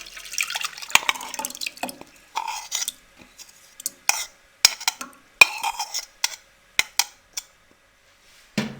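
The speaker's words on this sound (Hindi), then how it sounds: "अब इसमें हम ये पानी में भिगोया हुआ दलिया" Oat porridge that has been soaked in water is tipped into a pan of hot water, giving a series of close, wet splashes and pours with short gaps between them and no talking.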